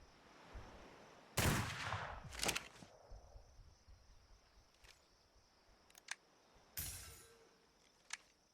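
Gunshots in the game Atlas: two loud, sharp cracks early, a third strong blast later, and several faint clicks and small reports in between against a quiet background.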